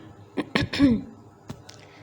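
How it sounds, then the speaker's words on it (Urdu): A woman clears her throat up close: two or three short rough bursts and a voiced grunt, followed by a couple of faint clicks in an otherwise quiet room. "وہ گلا کھنکار کر بولی"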